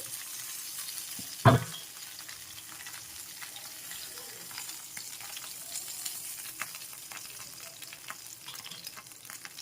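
Chicken leg pieces frying in a pan give a low, even sizzle close by, after one brief loud clatter near the start, with faint trickling and scraping through the rest.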